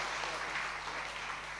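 A church congregation claps hands in praise during a healing service, a dense steady wash of applause throughout, even in level and moderately loud.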